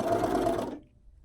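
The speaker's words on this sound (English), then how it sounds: "I'm sewing with the band facing the machine" A sewing machine stitches a stretchy band onto the waistband of knit joggers, a steady close whirring hum that stops abruptly partway through, leaving quiet.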